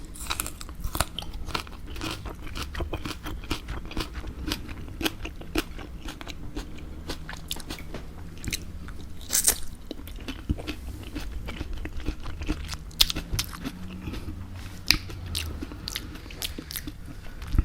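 Close binaural crunching and chewing of crispy duck with pancakes: repeated crisp bites and munches in an irregular rhythm, loud and intimate, without talking.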